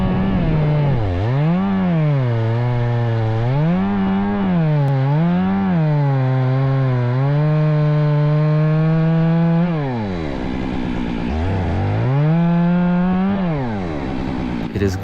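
A chainsaw cutting a tree while operated from a Gorilla ladder, loud and close, its engine rising and falling in repeated revs with a long steady stretch and a brief dip before revving again.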